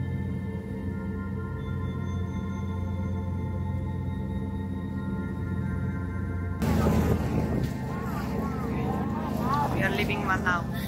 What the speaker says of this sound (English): We are leaving Manaus, going to Santarém on the boat.